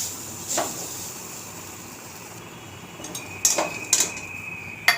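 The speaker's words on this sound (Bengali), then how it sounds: "এবার এটা আমি একটা বাটিতে তুলে নিচ্ছি।" A pointed gourd filling is spooned from the pan into a bowl, with a few faint metallic clinks and taps against the dish, close and sparse.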